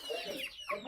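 Chickens cluck and squawk close by as they are fed their favourite food, short busy calls tumbling over one another through the moment, with a voice faintly mixed in.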